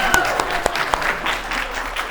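Audience at a live panel interview clapping as the panelists walk to the front, steady close applause from a room full of people, with a few sharper individual claps standing out.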